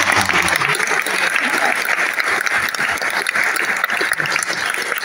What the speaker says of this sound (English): Give it a huge round of applause